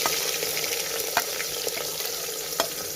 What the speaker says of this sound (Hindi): अब ऑयल गर्म हो गया, इसमें डाल देंगे प्याज